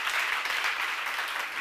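A church congregation at a seminar sermon breaks into a brief burst of applause, dense and even throughout, clapping alone without speech.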